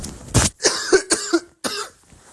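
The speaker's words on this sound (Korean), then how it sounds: "기침이 계속 나와요." A person with a cold coughs repeatedly at close range, a series of about five harsh, loud bursts separated by short pauses.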